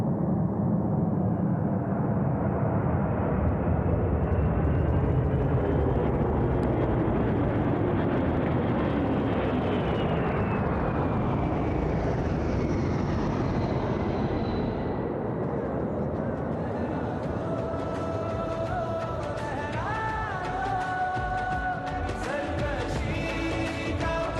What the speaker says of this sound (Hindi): A huge round of applause for C-17.